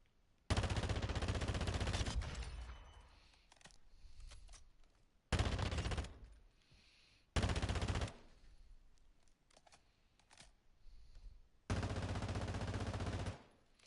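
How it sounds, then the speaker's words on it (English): Sustained automatic gunfire at target bots in the video game DMZ, four loud bursts of rapid fire, each lasting about a second or more, separated by quiet gaps with faint echoes. "Maybe just over a second of sustained fire."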